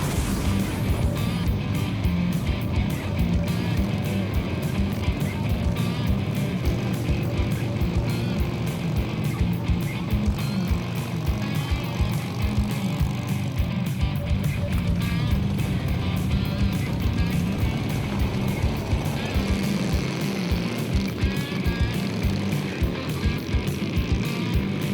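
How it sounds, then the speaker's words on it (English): Chopper motorcycles ride out of the city as a group, their engines producing a dense, continuous rumbling roar with rapid pulsing exhaust beats, loud and sustained throughout with a slight shift in tone toward the end. "Heading out of the city, these choppers get some fresh air."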